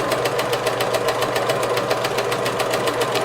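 A domestic, non-industrial sewing machine stitching thick pea coat fabric, a fast, even, mechanical clatter of rapid regular stitch pulses running steadily throughout, close and loud.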